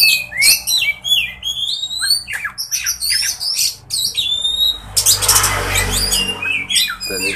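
Kacer magpie-robins chirp and whistle in quick, varied bursts while set out to sun, the calls close and bright, with a rougher rustling patch of noise partway through.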